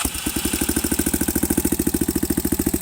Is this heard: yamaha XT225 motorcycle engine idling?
yes